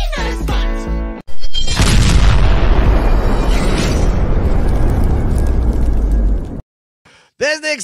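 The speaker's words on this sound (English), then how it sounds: "There's the explosion" A sudden deep boom bursts in after a brief musical opening and rolls on as a long, loud rumbling explosion effect for about five seconds, then cuts to silence before a voice begins.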